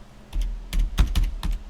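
Typing on a computer keyboard while searching for a grocery option, heard as short bursts of close key clicks in small uneven clusters, with no voices present.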